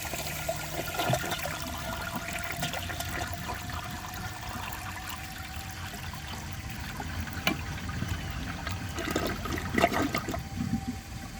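A 1984 Eljer Murray toilet flushes a washcloth: a sustained, close rushing and gurgling of water that lasts the whole stretch and swells again near the end, with no voices.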